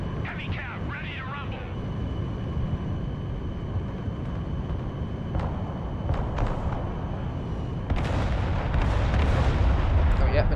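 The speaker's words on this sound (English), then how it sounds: "Fire artillery straight on that Terminator." Artillery fire in the video game Broken Arrow, with heavy booming impacts and rumbling blasts over a constant low battle drone, growing louder toward the end, while a player talks.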